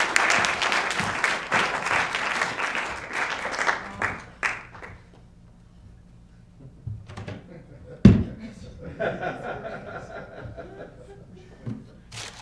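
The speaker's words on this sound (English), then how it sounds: "Let's give him a round of applause." An audience at a trunk show claps and cheers for a speaker's introduction, a dense burst of applause that fades after about four seconds, followed by scattered laughter, a knock and talking.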